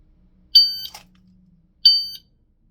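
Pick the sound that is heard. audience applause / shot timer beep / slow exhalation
shot timer beep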